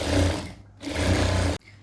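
A sewing machine stitching the seam of a pair of straight pants, two rapid whirring bursts of needle strokes close by with a short pause between and a sharp stop.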